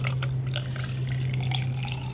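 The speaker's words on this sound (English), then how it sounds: "Now all you do is go ahead and add your water" Water pours steadily into a bait mold for frozen surf-fishing bait, a continuous trickling and splashing with small drip accents, close and fairly loud over a low steady hum.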